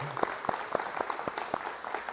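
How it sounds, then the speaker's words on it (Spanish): A church gathering applauding, sparse and fairly quiet claps in a loose rhythm from a small group, heard at a moderate distance. "Un aplauso por ellos."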